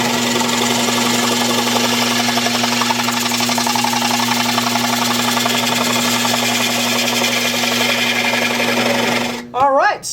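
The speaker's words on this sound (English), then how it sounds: "So I'll rough turn this off and then finish the foot of the piece" A wood lathe rough-turning a waste chuck gives a steady droning hum with a rhythmic chattering cut, loud and close and continuous, then cuts off abruptly at the end.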